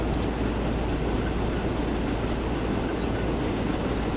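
Train arriving in Transport Fever 2, a steady loud rumble of rolling rail wagons with continuous low-frequency roar and no pauses, heard alone without talk.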